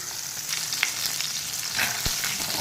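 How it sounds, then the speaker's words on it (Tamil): Ten to fifteen small shallots hitting hot oil in a kadai, giving a bright, steady sizzle with a few soft clinks and pops, close and clear with no talking. "ஆயில் ஊற்றிட்டு 10-15 சின்ன வெங்காயம் போட்டுக்கலாம்"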